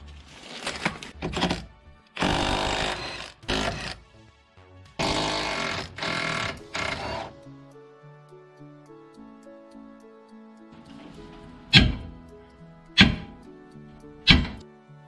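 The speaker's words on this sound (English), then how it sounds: "Now it's time to remove the E-bolt that goes through the arm" A long E-bolt is worked out of a Mini John Cooper Works suspension arm, with bursts of scraping and grinding metal early on, then a quiet stretch and three sharp, separate metallic knocks near the end.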